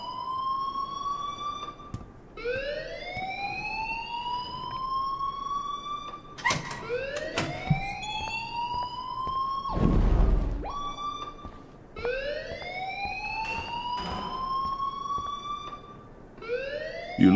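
An alarm wails in the video game Life is Strange, a rising siren tone repeating in long sweeping cycles, loud and continuous, broken briefly by a few sharp knocks and a burst of noise.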